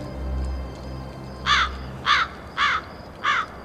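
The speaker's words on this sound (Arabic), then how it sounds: "ده غراب" A crow caws four times in even, separate bursts, loud and close, over a low rumbling background with no talk.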